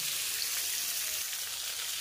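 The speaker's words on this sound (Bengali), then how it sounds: "দিয়ে গ্যাসের ফ্লেমটা বাড়িয়ে দিয়ে খুব ভালোভাবে এটাকে ভাজা করে নিতে হবে।" Potato and pointed gourd pieces frying in oil over a high gas flame, an even, soft hissing sizzle running steadily through the brief moment.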